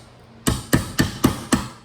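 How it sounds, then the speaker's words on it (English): A hammer strikes a roll pin five times into a Panzer EG240 rifle part. The sharp metallic taps are close and evenly spaced, with no talk over them. "Grab our hammer or punch, whatever you're comfortable with."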